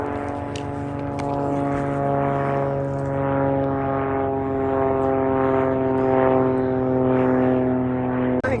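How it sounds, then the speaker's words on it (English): A propeller airplane drones steadily overhead during an outdoor walk, a loud, sustained engine hum that stays even for several seconds and ends in a brief knock. "I expect I'll probably get a few more planes going over before this walk is done."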